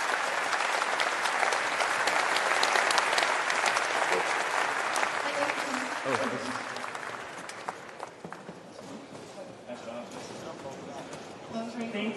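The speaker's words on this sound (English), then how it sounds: "please give a round of applause for the panel today" Dense audience applause for a panel on Bitcoin's media problem, loud and sustained at first, then thinning out with scattered claps as voices begin to talk over it.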